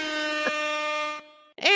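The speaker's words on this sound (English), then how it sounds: "Hip hop air horn." A hip hop air horn sound effect blares as a single steady, loud harmonic blast lasting about a second, followed by a brief sharp burst at the end.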